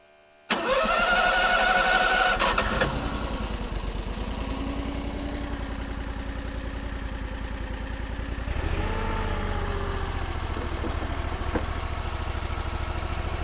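A mini skid steer engine cranks briefly, catches and fires up loudly, then settles into a steady mid-pitched idle, with a short rev partway through.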